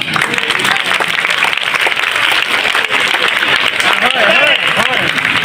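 A school audience at a magic show bursts into loud, continuous applause, dense clapping from a crowd sustained for several seconds, with some voices mixed in.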